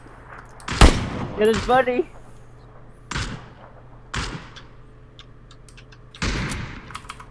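Video game gunfire sounds as a few sharp, loud bursts spaced through the clip, mixed with excited shouting and chatter from players.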